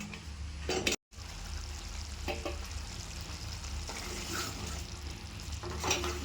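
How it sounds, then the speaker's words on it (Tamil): Dried fish curry simmering and sizzling gently in a pan, a continuous soft bubbling hiss with occasional stirring clatter, close by and fairly quiet. "இப்போ இது கொஞ்ச நேரம் இதுலேயே கொதிக்கட்டும்"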